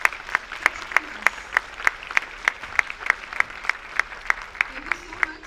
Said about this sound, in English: Can I have a huge round of applause for all the army people who are serving the nation and protecting us?